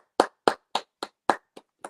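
Seven sharp hand claps in an even, unhurried rhythm, close and crisp with silence between each one, the sixth a little softer.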